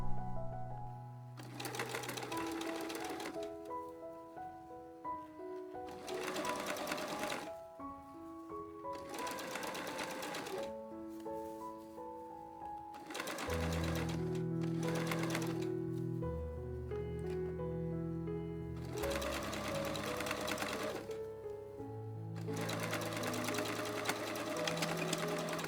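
A sewing machine stitches a blouse's facing in place, running in steady bursts of rapid, close mechanical whirring and stopping briefly between runs.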